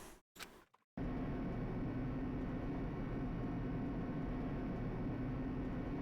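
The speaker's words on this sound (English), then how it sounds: "The elevator lowered, uttering its all too familiar clunking sounds." The Danganronpa video game elevator descends: after a few brief knocks, a loud, constant low mechanical rumble with a faint high whine runs steadily throughout.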